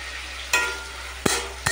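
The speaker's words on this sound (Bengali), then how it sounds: "তো উচ্ছে ভাজাটা আমি বসিয়ে দিয়েছি" Bitter gourd slices fry in a pan with a soft continuous sizzle, broken by three sharp clattering stirs or scrapes of the utensil, close by and with no speech.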